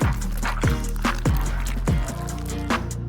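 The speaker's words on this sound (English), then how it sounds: "Then spread out the ink." Ink squished and spread inside a sealed plastic bag lying on a notebook: several wet, squelching strokes in a steady rhythm, close and fairly loud, with liquid gurgles between strokes.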